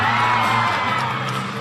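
Crowd cheering in the arena at a college gymnastics meet with ASU and BYU at Cal, a loud, sustained wash of whoops and shouts that fades slightly toward the end, with a voice faintly under it.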